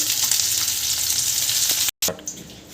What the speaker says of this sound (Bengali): এই যে এখন আমার মাছটা দেখুন ভাজা হয়ে এসেছে